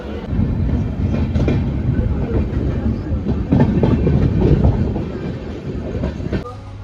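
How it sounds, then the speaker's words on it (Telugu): A passenger train pulls away and runs along the track, its wagons rumbling and clattering steadily with rhythmic wheel clicks, loud and close as heard from inside a coach. "ట్రైన్ కూడా స్టార్ట్ అయిపోయింది."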